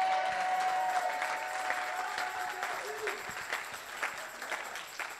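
Audience applause at a French-language gathering, a steady wash of clapping and crowd noise with some voices mixed in, moderately loud and continuous throughout.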